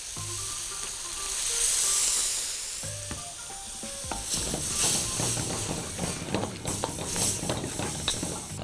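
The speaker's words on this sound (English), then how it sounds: "So we're gonna cover all this up with a little bit of shrimp broth." Shrimp broth poured into a hot pan of Filipino pancit palabok sauce ingredients, starting with clinks and light splashes, then building into a loud, steady crackling sizzle close by.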